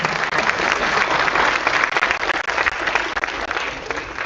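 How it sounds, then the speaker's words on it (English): Conference audience applauds warmly to welcome the chief guest at an IEEE event, a sustained burst of many hands clapping for about four seconds, loud and close. "A big round of applause for our Chief Guest today."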